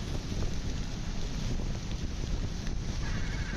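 A motorbike rides through heavy rain on a road in Karachi, heard as a loud, steady roar of wind buffeting the microphone with rushing spray and low engine rumble, and no talking.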